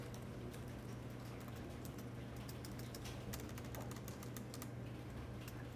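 Quiet keyboard typing over a steady low electrical hum, with scattered soft key clicks clustering more densely in the middle stretch; no voices.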